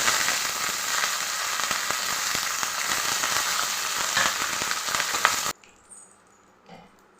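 Mustard seeds, cumin, dried red chillies and curry leaves fry in hot oil for a South Indian sambar rice tempering, a loud, dense crackling sizzle with sharp seed pops that stops abruptly, leaving faint clinks.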